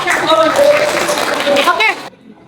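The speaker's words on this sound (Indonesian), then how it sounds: "tepuk tangan untuk kelompoknya" Classroom applause for a student group, a dense burst of clapping from many pupils lasting about two seconds under some voices, then cutting off abruptly into near silence.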